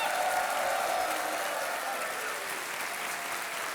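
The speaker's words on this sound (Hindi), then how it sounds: "तालियां बजती रहे देवी और सजनों" A game-show studio audience claps steadily after a contestant wins a cheque, a dense, even roar of applause that slowly eases toward the end.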